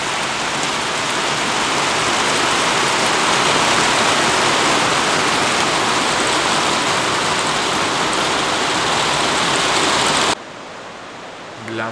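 Heavy rain pours onto a tent on a camping night, a dense, loud, steady patter for about ten seconds before it cuts abruptly to near quiet.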